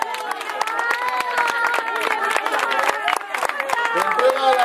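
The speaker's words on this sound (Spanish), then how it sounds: "¡Un fuerte aplauso!" Crowd at a migas cooking contest in Cercedilla, Spain, applauds the winner, with clapping mixed under lively cheering and overlapping voices, steady and close for several seconds.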